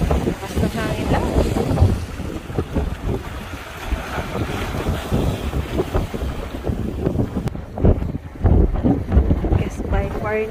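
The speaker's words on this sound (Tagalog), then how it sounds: "Lakas ng hangin lang." Strong wind buffets the microphone in a steady roar at the coast at Beachey Head, with splashing water and voices talking underneath throughout.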